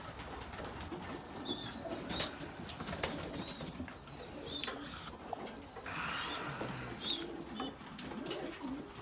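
Racing pigeons coo softly in a loft, with occasional wing flaps and faint chirps throughout, quiet and steady in the background.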